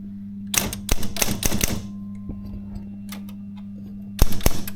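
A Silver Reed typewriter with correction tape types in quick clustered bursts of sharp key strikes, pausing briefly, then resuming with another loud flurry of clacks, with a steady low hum underneath.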